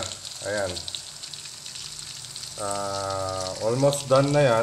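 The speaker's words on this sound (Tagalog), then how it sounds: "Kaya naririnig nyo yung tunog ng nagpiprito." Longganisa sausages from Tuguegarao frying in hot oil, a steady broadband sizzle running throughout, with a person talking over it in the foreground.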